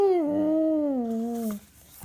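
A hound dog howls miserably in one long, wavering, mournful note that slowly falls in pitch before breaking off, loud and close, with a faint shuffle afterward.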